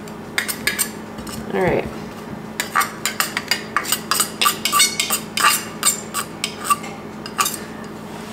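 Potatoes for oven-baked smashed potatoes land in a bowl with a run of hard clinks and knocks, clattering irregularly at close range, while one short spoken remark comes near the start.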